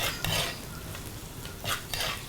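A spoon stirring onions frying in a pan for a fish head curry, with soft sizzling under a few sharper scraping strokes against the pan, close and fairly quiet.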